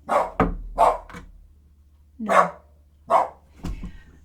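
A dog barks close by in several sharp, separate bursts, loud and irregular, with short quiet gaps between barks.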